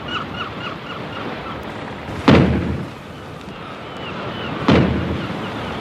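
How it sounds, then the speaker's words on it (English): Two heavy booms from a ship's alarm gun, a couple of seconds apart, each rolling away into a rumbling echo, with faint bird calls at the start. "They're sounding the alarm gun."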